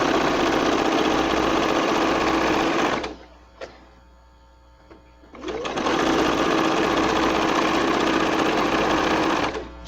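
A sewing machine runs steadily while stitching fabric for a bunting garland, stopping for about three seconds midway as the fabric is realigned, then resuming its close, loud, continuous whir until the end.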